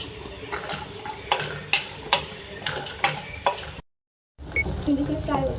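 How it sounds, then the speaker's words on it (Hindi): Okra, about 150 grams, frying in oil in a karahi, with a steady sizzle and rhythmic spatula scrapes close by, broken by a brief silent gap before the frying resumes. "इसको फ्राई करेंगे।"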